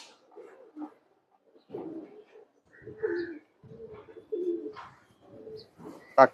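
Tournament-flying game pigeons coo in a house loft, giving soft, repeated throaty bursts separated by short pauses, close by but fairly quiet.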